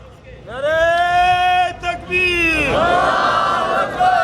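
A crowd at a religious gathering in Peshawar chants slogans: a loud, sustained massed shout of voices, rising, breaking briefly, then surging again with a roar of many people near and far.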